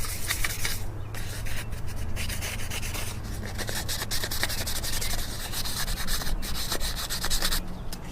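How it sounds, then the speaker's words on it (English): A cloth rubs briskly back and forth over a painted car strut tower brace in the engine bay, a close, continuous, dense scrubbing sound with brief pauses between strokes. "Then wipe it off again."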